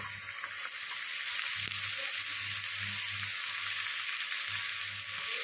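Chopped onion and boiled jackfruit seeds frying in a pan, producing a loud, steady sizzle with occasional soft stirring knocks underneath, close and continuous.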